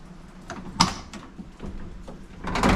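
The door of a 1979 Ford F-series Dentside truck opens with a metallic clunk of the latch, followed by shuffling and a second rattling clank near the end, close by, with no talk.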